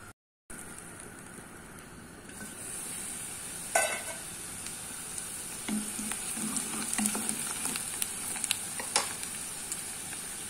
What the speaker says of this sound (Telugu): మనం ఆనియన్స్, గ్రీన్ చిల్లీ వేసుకుని ఫ్రై చేసుకుందాం. ఇవి ఫ్రై అవుతా ఉంటాయి ఫ్రెండ్స్